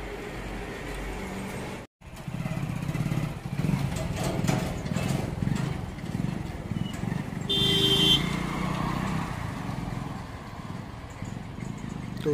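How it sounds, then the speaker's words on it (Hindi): A small motorcycle engine idles and chugs steadily at close range while towing a bike trailer, rising a little as it pulls away, with a brief dropout near the start and no talking. "तो ये ट्रॉली का बाइक से टेस्टिंग लेते हैं।"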